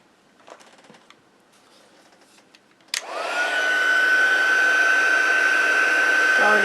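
A heat tool melting embossing powder on a card starts abruptly after a few soft shuffling and tapping handling noises, then blows as a loud, steady, close whir with a constant whine.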